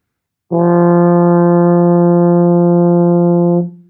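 A single sustained F on a baritone horn, played with no valves pressed, held steadily for about three seconds, full and mellow, starting cleanly and fading out at the end.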